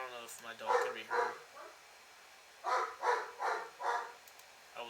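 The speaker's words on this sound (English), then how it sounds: "I would like to apologize for my dog in the background." A dog barks in the background in two bursts, three sharp yaps and then four or five more, moderately loud against otherwise quiet surroundings.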